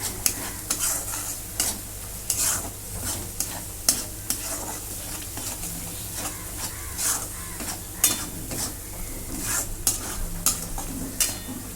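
Masala spices are dry-roasted for Kolhapuri misal, with a spoon scraping and stirring in a pan in repeated sharp strokes over a low, continuous sizzle, close and fairly loud.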